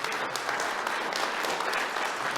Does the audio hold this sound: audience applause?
yes